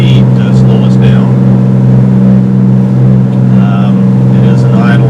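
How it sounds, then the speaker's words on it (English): A boat's engine drops toward idle speed while entering a canal, a loud steady low hum with harmonic drone running close throughout, plus faint higher whines. "As we come into the canal, I'll be dropping down to idle speed to slow us down."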